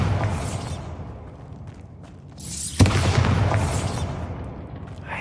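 A Bombarda exploding spell in Hogwarts Legacy: quiet ambience gives way to a sharp, loud blast that rolls into a lingering rumble, with no talk over it.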